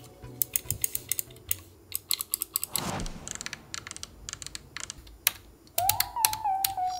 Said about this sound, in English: I found the quality of all the encoders and buttons to feel and sound very good.